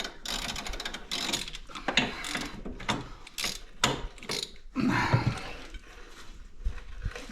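A ratchet working a bolt loose on a Polaris Ranger 150 utility vehicle during a lift kit install, giving rapid clicking bursts in irregular runs, close and fairly loud, with short pauses between strokes.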